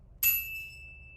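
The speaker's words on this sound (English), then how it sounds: "This is the best bell I have." A single bell is struck once and rings out with a bright, sustained metallic tone that slowly fades, heard close and alone.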